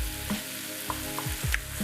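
Spicy gravy is stirred into a hot pan with poached eggs for breakfast, making a steady sizzle broken by a few short scrapes and clicks of the utensil, close by, with no talk.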